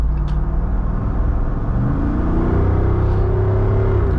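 A Jeep Wrangler 392 with a HEMI V8 accelerating while its exhaust opens up above 3,500 RPM, a loud, deep, close engine roar that climbs steadily in pitch, with no talk.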